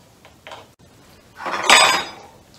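A stand mixer bowl and dough hook attachment are handled, giving a couple of light clinks followed by a louder metallic clatter and scrape, close by with no voices.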